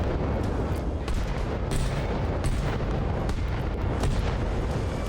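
An artillery mortar barrage in the video game Arma Reforger, a continuous rumble of distant booms and crackling blasts overlapping into a dense, steady roar with no clear voices.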